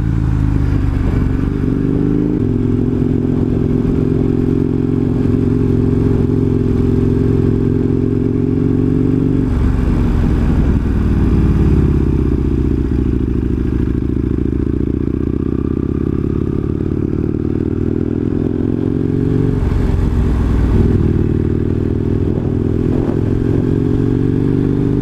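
Husqvarna 900 Nuda motorcycle cruising along a small country road, its engine a steady loud drone with a few rising and falling revs as it accelerates and eases off, wind rumble underneath, no talking.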